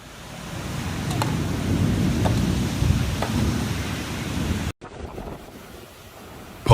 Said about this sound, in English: Tokyo submerged in floods amid a violent storm, while southern Japan braces for the next approaching typhoon.